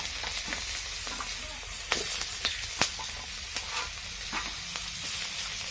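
Onions and fish fry in hot oil, a steady sizzle with sharp crackles and pops scattered through it, close and fairly quiet, with no talking.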